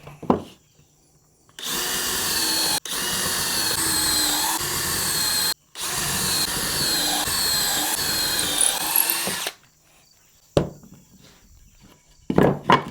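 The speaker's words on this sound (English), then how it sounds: "Go ahead and pre-drill each one of these quick." A power drill pre-drills holes in wooden boards for homemade goat toys, with two long loud whirring bursts of several seconds each, separated by a brief stop, then a few short sharp clicks and knocks.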